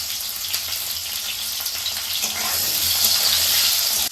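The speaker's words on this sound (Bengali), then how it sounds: "এই তেলেই এখন আলুগুলো একটু ভালো করে ভেজে নেব।" Oil sizzles loudly and steadily as food fries, the hiss growing a little stronger partway through.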